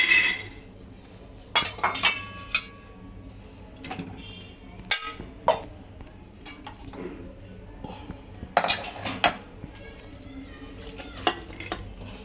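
Vegetables tumble into a hot metal pressure cooker with clattering knocks and scrapes of a utensil, scattered bursts against a low background, no talking.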